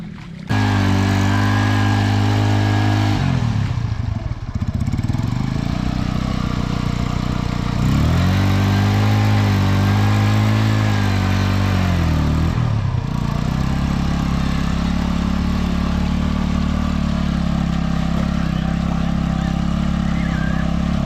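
A TVS Apache RTR motorcycle engine works hard while ploughing a muddy field, a loud, close, continuous drone that revs up and bogs down repeatedly, with a couple of brief dips between pulls.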